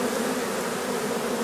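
A runaway swarm of honeybees returns to its hive, a dense, continuous buzzing hum close by that holds steady without a break.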